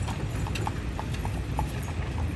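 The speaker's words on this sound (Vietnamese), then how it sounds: "Thì chủ nhân đã ra và chiếc xe ngựa này từ từ chuyển bánh rồi." Horse hooves clip-clop at a steady walking rhythm as a horse pulls a buggy carriage along a road in rural America, the clear knocks repeating over a constant background rumble.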